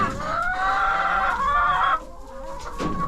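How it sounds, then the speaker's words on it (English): Free-range chickens in a paddock beside a mobile chicken caravan cluck and squawk close by, a loud drawn-out call followed by softer clucking. "See, there's the chickens."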